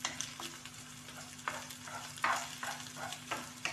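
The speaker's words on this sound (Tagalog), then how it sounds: "Haluin natin ang haluin guys hanggang sa matulo siya guys." Sardines being stirred in a frying pan, a utensil scraping and turning them in rhythmic strokes every second or so over a soft steady sizzle, close up with no talking.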